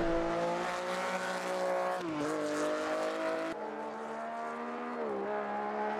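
A classic race car in a sim racing game at Imola drones loudly and steadily with a harmonic engine tone, dipping twice as it slows and then picks up again, with no one talking.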